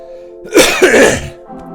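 A single harsh, throaty cough bursts out close and loud, followed by a short second rasp, over a quiet steady hum in the background.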